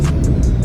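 A single-turbo Nissan G37 with a Soho turbo kit idling after its first startup, a steady low engine rumble filling the whole moment with faint hissy whooshes on top.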